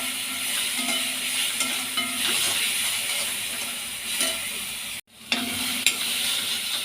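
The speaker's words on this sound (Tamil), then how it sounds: "இஞ்சி பூண்டு நல்லா வதங்கிடுச்சுங்க" Ginger and garlic sauté in a hot pan with a steady close sizzle, broken by scraping stirs and a brief drop to near-silence partway through before the frying resumes.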